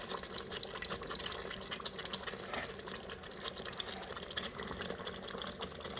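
Tamarind water is poured into chicken vindaloo, a Goan curry, in an Instant Pot, giving a soft continuous liquid trickle and splash throughout, fairly faint.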